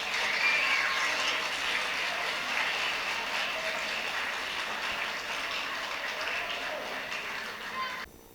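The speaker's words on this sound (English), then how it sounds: "Give them a round of applause." Audience at a school assembly clapping for performers, sustained dense applause that holds steady and then cuts off abruptly near the end.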